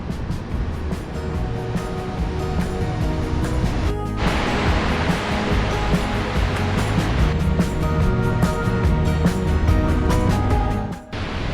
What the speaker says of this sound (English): So I've reached the waterfall